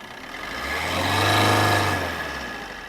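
A car engine in a workshop revs up and back down once, a Swift Dzire or Nissan Sunny type sedan, the mid-range growl swelling to a peak and easing off, loud and close with no talk.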